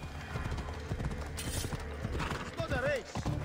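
A horse trots through a congested ancient Greek city in the Assassin's Creed Odyssey video game, its hooves clip-clopping in a steady rhythm over ambient bustle, with a brief whinny near the end and voices talking over it.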